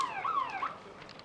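A half-time siren sounds at a men's Premier League hockey match between Burnside and Adelaide, with a single wavering electronic wail rising and falling briefly, fairly faint and distant over crowd ambience.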